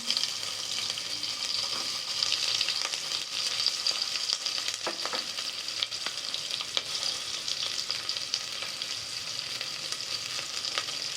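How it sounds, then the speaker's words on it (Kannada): Chopped onion fries in hot oil with curry leaves and a dried red chili, making a steady, moderately quiet sizzle with occasional stirring scrapes. No one speaks. "ಈಗ ಇದನ್ನು ಫ್ರೈ ಮಾಡ್ಕೊಳ್ಳೋಣ."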